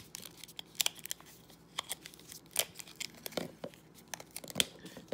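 Metal rental car keys for a Volvo being twisted apart on a split key ring, giving a run of sharp, irregular clicks and scraping metallic ticks up close, alone and fairly quiet.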